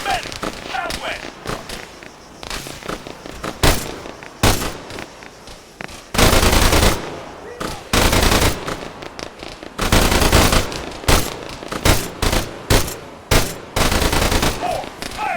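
Gunfire in the Arma 3 video game as a squad engages an enemy soldier and medic: repeated loud bursts of automatic and single rifle shots in irregular clusters, with shouted radio-style commands between them.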